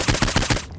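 Sniper rifle shots fired in Saints Row IV: Re-Elected, a fast burst of about five loud, sharp cracks in quick succession, then a sudden cut to near silence.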